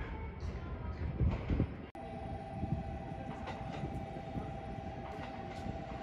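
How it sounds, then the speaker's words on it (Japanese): An orange JR Kyushu 783 series electric train rumbles past nearby with a steady electric whine and rolling clatter, after an abrupt cut from a louder moment. "今度はオレンジ色の電車だよ"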